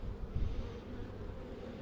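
Honey bee swarm buzzing during a hive transfer, a steady low droning hum of many bees close by, continuous and fairly quiet throughout the short stretch.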